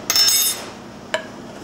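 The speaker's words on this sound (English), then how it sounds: "Give it a good mix." A spoon clinks against a pot while bouillon is stirred into vegetable soup with celery and carrots, giving a brief cluster of metallic scraping clinks followed by a single sharp tap, close and fairly quiet.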